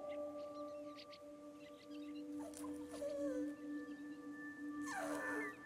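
Pet dog Manju in That Dragon, Cancer, giving two soft howling, whimpering yelps over a steady tonal music drone, moderately close.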